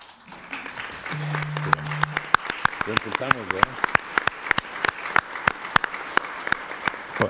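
Audience applause at a tribute ceremony for García Robles, a steady wash of many hands clapping with sharp individual claps standing out, briefly overlapped by a voice near the start.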